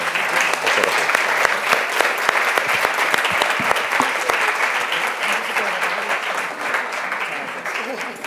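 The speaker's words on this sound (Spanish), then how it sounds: "un aplauso a Esther por la ponencia" A conference audience at a Global Affairs session claps for Esther after her talk, with loud, close, dense applause sustained throughout and tapering slightly near the end.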